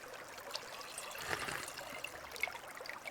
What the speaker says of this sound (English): now that we have the flask, we should be able to get some water in it